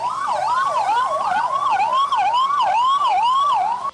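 Ambulance siren wailing continuously as it carries a donor heart away from BGS hospital in Bangalore, a loud, close, sweeping two-tone cycle repeating roughly every half second with no talk over it.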